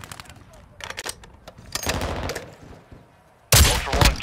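Gunfire in a Call of Duty DMZ match comes as scattered shots and short rattling bursts, followed by a sudden loud, dense burst of fire at the end, with game sounds throughout.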